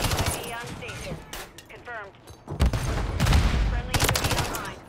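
Rapid KSG shotgun blasts and gunfire from Call of Duty Black Ops 2 gameplay, loud bursts clustering in the second half, mixed with other game effects and chatter.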